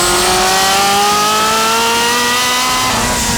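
A twin-turbo, fully built 3.4-liter Ferrari 348 Challenge engine revving hard and close, its loud steady tone climbing smoothly in pitch as it accelerates.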